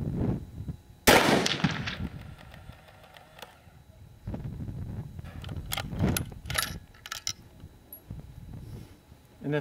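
A gunshot fired over a Chrony Gamma Master chronograph: one loud, close, sharp crack rings out, followed by a few scattered clicks and handling noises.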